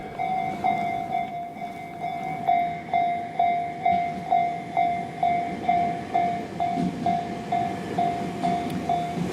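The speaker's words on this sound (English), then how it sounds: "There's a train going by is why everything's beeping." A train passes a level crossing while the crossing bells ding in a steady repeating rhythm, loud and close, over the low rumble and clatter of rail cars.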